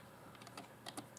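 Soft, quick keystrokes on a computer keyboard, a short burst of several irregular taps heard faintly in a quiet room.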